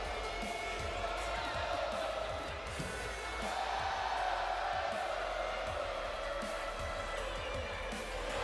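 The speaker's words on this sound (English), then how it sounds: "Crowd is still cheering for that." Crowd cheering from a WWE 2K25 wrestling game plays as a steady, distant roar with scattered thuds and whoops. It runs at low level without talk.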